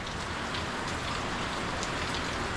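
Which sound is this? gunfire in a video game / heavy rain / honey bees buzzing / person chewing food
heavy rain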